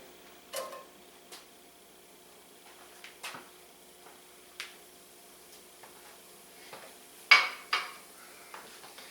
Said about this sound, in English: I have a couple shallots that I just, you peel, cut the ends off, and slice thin